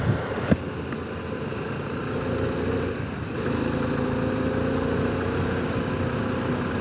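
A Harley-Davidson Pan America adventure motorcycle's engine hums steadily from the saddle, dips briefly for a gear shift, then pulls on again at a slightly higher pitch under wind noise.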